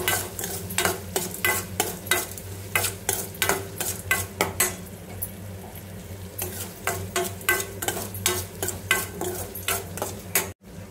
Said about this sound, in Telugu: ఈ ఆనియన్స్ కూడా మంచిగా ఫ్రై చేసుకోవాలి.